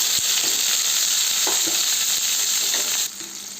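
Small cut okra pieces fry in hot oil in a pan, giving a steady, bright sizzle throughout with a few soft stirring knocks, the hiss dropping slightly in level near the end.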